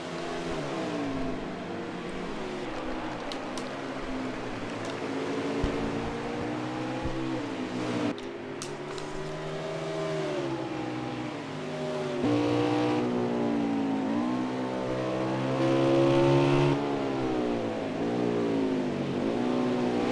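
A stock race car engine at a Winston Cup race at Canadian Tire, revving and accelerating on track, its loud harmonic whine rising and falling through gear changes as the car gets back up to speed.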